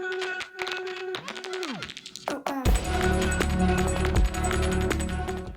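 A music track's mini dropout built from a pitched-up voice memo processed with a vocal bender, reverb and EQ: chopped, warbling pitched tones and sweeps open sparsely, then a dense, loud full-band section with heavy low end kicks in partway through.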